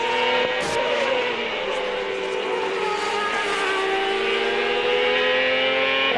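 A 2002 CART race car engine screams steadily through qualifying at Laguna Seca, loud and close for the whole stretch, its pitch dipping and rising with throttle blips on downshifts.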